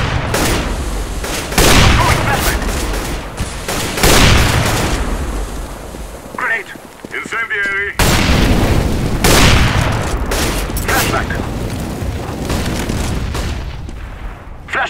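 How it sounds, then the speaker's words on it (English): A flashbang grenade and other gunfire sound off in a tactical shooter video game, with several sharp booms and bursts spread across the stretch and a brief high ringing tone in the middle. "Throwing a flashbang."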